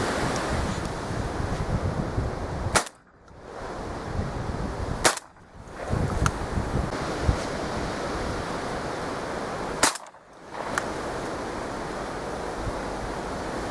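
Strong wind buffets the microphone on an open maize field during pigeon decoying, a steady loud roar broken by three sharp gunshot cracks, each followed by a brief lull.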